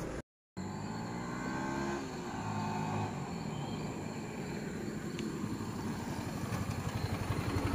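A motorcycle is ridden along a bypass road after having its tyre fitted. A humming engine tone is clear at first, then gives way to steady wind rush.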